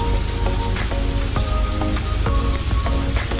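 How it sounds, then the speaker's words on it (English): Steady rain pours down beside an open sea beach, a dense continuous hiss with scattered droplet taps close by and no voices. "And it's raining."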